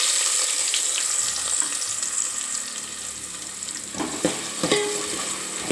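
Onion sizzling in hot oil with mustard seeds, cumin and curry leaves for a sprouted-gram curry, a steady broad crackle throughout with a few sharper pops and clinks near the end, no talking.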